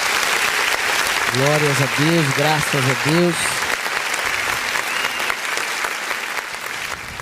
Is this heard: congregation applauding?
yes